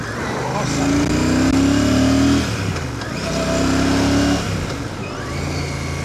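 Royal Enfield Classic 650 motorcycle, around 46 to 47 horsepower, accelerating on a ride through the New Forest, with two rising engine pulls separated by a gear change, loud and close amid wind noise.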